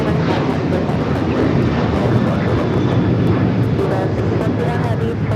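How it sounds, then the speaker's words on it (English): An Alaska Airlines Boeing 737-900ER taking off at LAX makes a loud, continuous jet roar close by, steady throughout, with a person talking over it. "That is Alaska Airlines 1147 taking off to Seattle on the 737-900ER"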